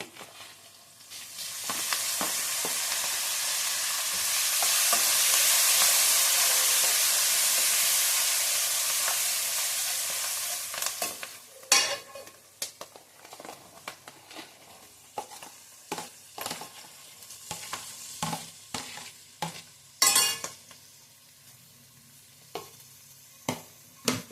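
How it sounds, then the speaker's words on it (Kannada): Sliced onions fry in hot oil with dried red chillies and curry leaves, a steady loud sizzle for the first half, then sharp stirring scrapes and clicks punctuating a fading hiss. "ಚೆನ್ನಾಗಿ ಫ್ರೈ ಆಗಬೇಕು ಈರುಳ್ಳಿ."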